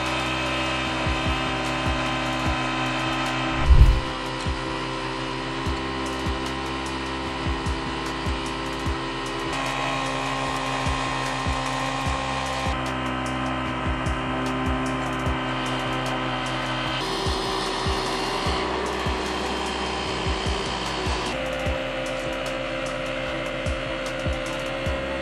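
A wet screed vibrator machine runs steadily on a construction site, giving a continuous mechanical drone with shifting tone and one brief louder knock near the start, with no talking.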